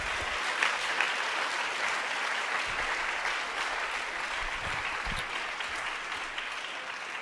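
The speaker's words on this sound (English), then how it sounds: "now you may applaud" An audience at a CUEtalks lecture breaks into steady, sustained applause that fills the whole stretch at an even, fairly distant level, with no voices rising above it.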